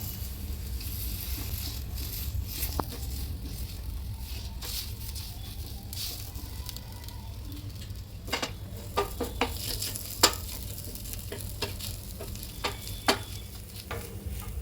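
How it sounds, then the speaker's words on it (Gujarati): Mashed boiled potato mixed in a frying pan for thecha pav, under a steady low sizzle and frying hiss, with repeated scraping and tapping strokes of a spatula that grow more frequent toward the end. "બેથી ત્રણ મિનિટ મિક્સ કરી અને ડીશમાં કાઢી લઈએ"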